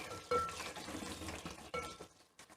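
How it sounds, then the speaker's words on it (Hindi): Tap water runs over pieces of arbi (taro root) held in a basket while they are washed in a kitchen sink, a steady splashing rush with brief clatters, fairly near and alone without talk. "मैं तो बास्केट में डाल के ऊपर पानी खोल के अच्छी तरह इसको"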